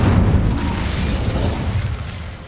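A spell cast in Hogwarts Legacy erupts as a loud, deep fiery whoosh with a booming burst that rolls on and fades slowly over a couple of seconds.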